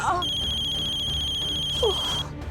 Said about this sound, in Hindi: ज्योति, वंदना को फोन कर।